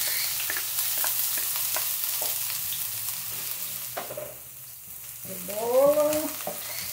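Onion fries in a thin drizzle of oil, a close steady sizzle with light stirring clicks, briefly quieter, then joined by a voice near the end.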